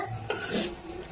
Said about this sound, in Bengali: পাউরুটি ভাজা চলছে।